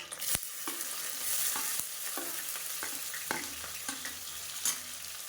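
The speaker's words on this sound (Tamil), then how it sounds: "இப்போ இதில் பொடியாக நறுக்கின வெங்காயம் சேர்த்துக்கலாம்" Finely chopped onion fries in a pan with curry leaves for a chicken leg gravy, giving a steady close sizzle broken by repeated scraping clicks of a spoon stirring, with no talking.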